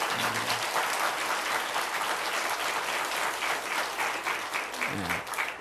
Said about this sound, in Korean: 다시 한번 박수 한번 해주시기 바랍니다